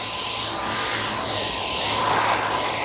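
A Dyson Micro 1.5kg cordless vacuum runs continuously at steady speed while cleaning upholstery, its loud, even motor whine and airflow rush filling the moment without pause.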